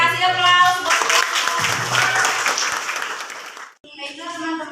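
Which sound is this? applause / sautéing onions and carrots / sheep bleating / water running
applause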